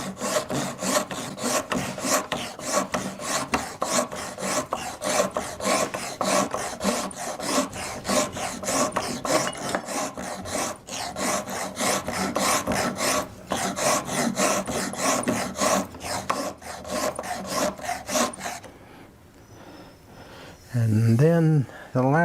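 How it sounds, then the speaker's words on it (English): A finer file rasps along a wooden spindle in fast, even back-and-forth strokes, close and loud for most of the stretch, then stops before a brief burst of speech at the end. "with the finer file,"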